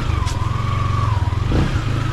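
A motorcycle engine hums steadily with a rising and falling whine, close and continuous, with a brief louder surge near the end.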